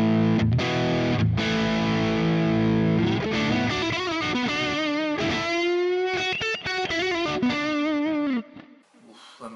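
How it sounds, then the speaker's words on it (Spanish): An electric guitar plays through a Hotone Ampero II running a Marshall 800 amp preset, loud and distorted: heavy chugged chords first, then sustained melodic lead notes with vibrato, ending in a brief drop and fade. "Aquí estamos con un Marshall 800. Entonces vamos a ver qué tal suena este preset"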